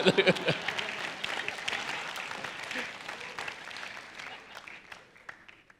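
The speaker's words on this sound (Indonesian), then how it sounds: "Beri tepuk tangan." Church congregation applauding at a sermon, a scattered, moderately distant patter of many hands that is fairly quiet and thins out toward the end, with a few louder claps at the start.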